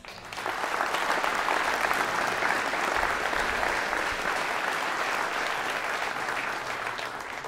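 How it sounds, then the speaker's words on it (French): A French campaign rally audience breaks into sustained applause, a broad, even wash of many hands clapping at a steady level for several seconds with no talk. "Je vous demande d'applaudir Annick Tchenna"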